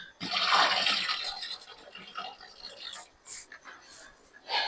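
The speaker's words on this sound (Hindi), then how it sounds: "प्याज को पहले मैं धो लूं, कटिंग करके रखा हुआ था," Chopped onions being washed in water, with a close splashing and swishing rush at the start that eases into softer sloshes and drips and then surges again briefly at the end.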